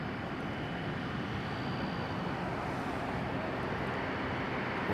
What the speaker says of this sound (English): Clear takeoff. Air Canada 880 to Zurich,